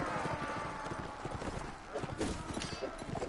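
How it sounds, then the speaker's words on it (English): Horse hooves clip-clop in Mount & Blade: Warband, a steady run of hoof beats over constant game noise, with talking mixed in. "Wish I could capture that horse."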